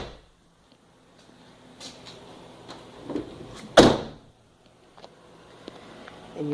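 The door of a Mercedes W163 ML SUV with factory running boards fitted is opened, giving a sharp single clunk amid light handling clicks and soft rustling.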